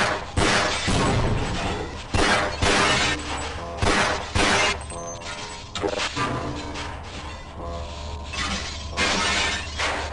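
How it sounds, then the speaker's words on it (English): Glass shatters repeatedly in the Cyberpunk 2077 video game, a run of loud crashes and breaking bursts with swishes between, mixed with game sound and no speech. "Yep, I love that glass sound."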